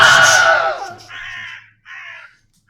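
Crow cawing in an Unreal Engine 5 sabertooth predator game: a loud, harsh caw up close, followed by two shorter, rasping calls separated by brief pauses.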